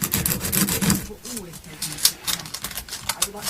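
Sandpaper rubbed back and forth over a guitar fret during an Electra refret, a close, dry scratchy rasping in uneven strokes with a few light taps and handling knocks.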